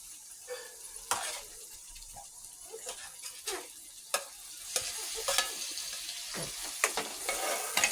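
Boiled brinjal stirred in a pan for Kathiawadi bharta, with soft repeated scraping and sizzling strokes, some sharper clicks of the spoon against the pan, close and fairly quiet.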